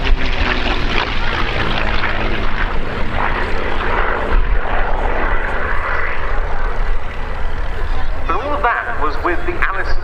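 A P-51D Mustang, Jersey Jerk, with its V12 Merlin engine roaring during a flying display at the RAF Cosford airshow 2025, a loud, sustained propeller-engine drone that stays powerful throughout.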